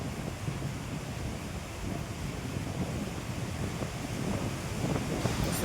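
Strong wind gusts during heavy monsoon rain roar as a continuous rumbling rush, with a rising swell toward the end.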